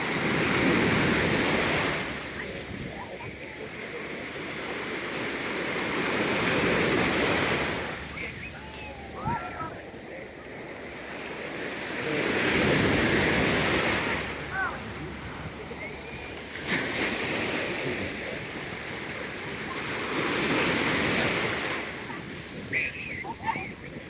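Ocean waves roll in and crash on the shore in slow surges roughly every seven seconds, with a constant wash of surf between them.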